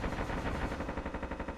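Rapid automatic gunfire in a competitive video game shootout during a playoff match, a steady loud burst of repeated shots filling the whole moment with no talk.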